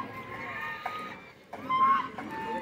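Geese and ducks at a pond in the grounds of a Buddhist temple in Sasaram, giving a few honks and clucking calls close by in a busy outdoor setting, with no talk.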